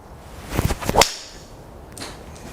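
A TaylorMade SIM Rocket 3 wood strikes a golf ball slightly low on the face, giving one sharp, close impact crack followed by a faint swish and then quiet.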